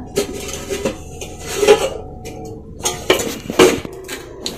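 Metal kadai set on a kitchen stove amid pots and utensils, a string of loud, close clanks and clinks spread unevenly over a few seconds, no voices.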